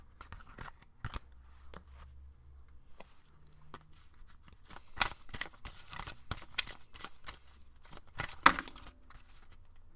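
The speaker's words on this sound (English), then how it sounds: "A lot of cards fell, so I'm gonna put them back." Tarot cards being gathered up and slid back into the deck, a run of soft, irregular card scrapes and flicks, quiet at first and then busier with several sharper snaps near the end.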